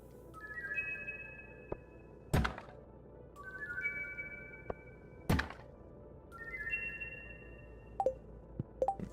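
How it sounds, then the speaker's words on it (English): Mega bombs going off in the Stardew Valley video game: three heavy booming blasts spaced a few seconds apart, each preceded by rising chiming game tones and followed by small clicks and taps, with no speech. "Five mega bombs."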